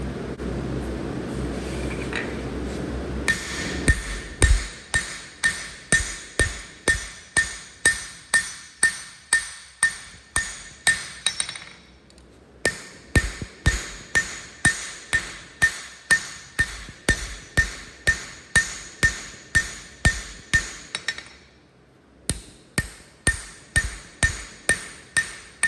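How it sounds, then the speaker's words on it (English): A hammer forges the bevel on both sides of a knife blade on an anvil, ringing in steady rhythmic blows of dozens of sharp metallic strikes that break off in two brief pauses, close and loud. "forging a bevel on both sides of the knife"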